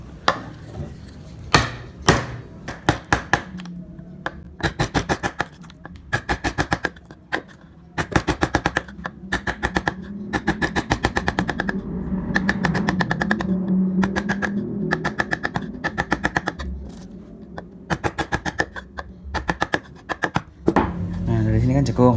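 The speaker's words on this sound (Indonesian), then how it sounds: "Untuk penjembungan lebih cepat pakai pahat kol ya" A gouge chisel (pahat kol) works wood during carving. Close, sharp tapping comes in irregular rapid bursts with short pauses, repeating throughout.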